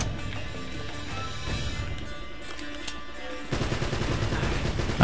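Gunfire from a firefight in the video game Uncharted: Drake's Fortune, a steady rattle of shots under a dense battle soundscape that grows louder and heavier in the last second and a half.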